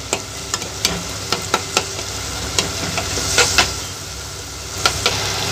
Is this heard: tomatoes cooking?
yes